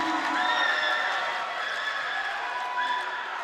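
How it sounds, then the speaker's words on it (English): At a high school basketball game, the crowd cheers and roars steadily after a made three-pointer, with voices heard through the noise. "Gets the crowd on their feet."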